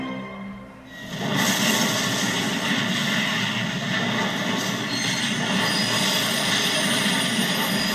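A steam train's emergency brakes squeal loudly and continuously, a harsh metallic screech over heavy rumbling rail noise that starts abruptly and holds steady.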